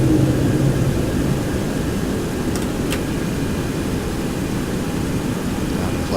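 Boeing 727 jet engines during the takeoff climb, heard from inside as a loud, steady, unbroken roar with a brief faint click or two and no talk.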